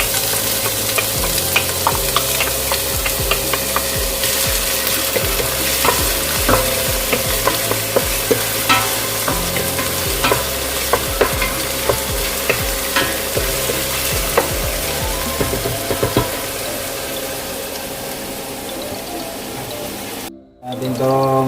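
Chopped onion sautéing in hot oil for beef asado, stirred steadily, with a continuous close sizzle and repeated utensil scrapes against the pan for about twenty seconds, then a brief dropout near the end.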